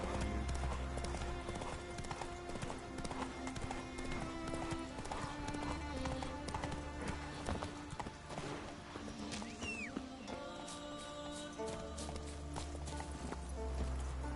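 Horse hooves clip-clop in a steady trotting rhythm in The Witcher 3, loud and continuous with some in-game ambience and a faint whinny-like sound.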